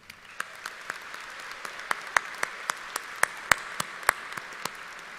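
A graduation audience at a high school ceremony claps in scattered, sparse bursts, individual sharp claps standing out fairly far off rather than a full ovation.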